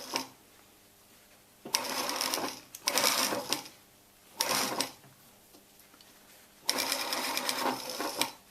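A sewing machine stitches a shirt collar seam in several short runs, each a whirring mechanical burst lasting about a second, separated by quiet pauses, close-up and moderately loud.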